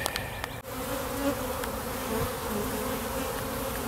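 Honey bees swarm around a hive's inner cover and Snelgrove board, their dense, steady buzz filling the air close by without a break.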